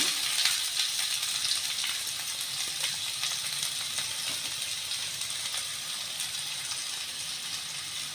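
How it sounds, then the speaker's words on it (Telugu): Chopped onions frying in rice bran oil, a steady broad sizzling hiss that holds evenly throughout, close and with no talking. "ఇది రైస్ బ్రాన్ ఆయిల్ ముందుగా ఇలా కట్ చేసిన ఉల్లిపాయలు వేసుకుందాం"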